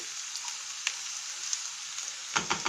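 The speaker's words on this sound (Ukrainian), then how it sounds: "Ось так злегка перемішаємо" Zucchini sauté sizzles in a pan, a bright continuous hiss with small crackles, and a spoon stirs through it with a few scraping knocks toward the end.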